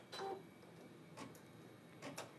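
A Brother embroidery machine starting to stitch its second thread colour gives three faint, evenly spaced mechanical clicks and whirs against a quiet room hum.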